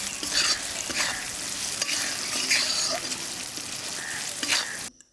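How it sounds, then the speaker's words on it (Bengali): Green chillies stirred into masala frying in a pan for a katla fish curry, a loud steady sizzle with scraping spatula strokes throughout, cutting off abruptly at the end. "এখন এর মধ্যে দিয়ে দেবো কয়েকটা কাঁচা লঙ্কা দিয়ে আবার আমি হালকা ভালো"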